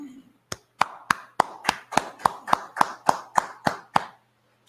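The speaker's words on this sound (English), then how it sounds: "All right, clap it up, clap it up," A group in a biblical history class claps in unison, about a dozen sharp, evenly spaced claps in a steady rhythm, loud and close, beginning after a brief quiet moment and stopping abruptly.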